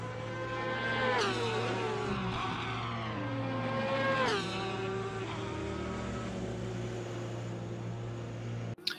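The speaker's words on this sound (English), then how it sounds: "It is a very wonderful sounding car indeed." GTE-class race cars, among them a Porsche and a Corvette, scream past on the Shanghai endurance circuit. Engine notes rise sharply, and repeated pitch sweeps mark cars passing close by, all loud and sustained with no talking.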